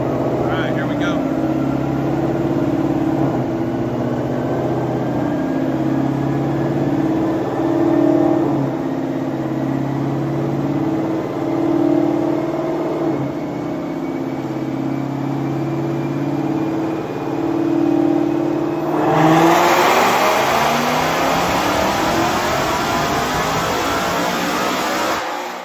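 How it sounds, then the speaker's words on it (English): A supercharged 2024 Ford Mustang with a 3.625 pulley and booster pump runs a 7th gear dyno pull, engine droning steadily before climbing sharply near the end, loud and close. "we're going to do a 7th gear pull and just see what this thing pulls out."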